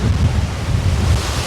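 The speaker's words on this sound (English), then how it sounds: "Yeah, it's windy." Strong storm wind buffets an RV site at 70 mph, a loud, steady roar of gusts battering the microphone with deep low rumble throughout and no voices.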